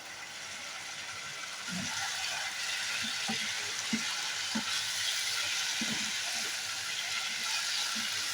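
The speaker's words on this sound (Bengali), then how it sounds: "আরও মিনিট খানিক নাড়ি চাড়িয়ে নিয়েছিলাম মিডিয়াম টু লো ফ্লেম করে" Bottle gourd with fish head, cumin and bay leaf powder stirred in a pan over medium-low flame, giving a steady soft sizzle broken by occasional scraping stir knocks, close and alone.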